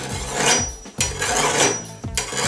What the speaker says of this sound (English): Again, I'll use a coarse file, and then at the end I'll use a finer file to get the blade completely sharp.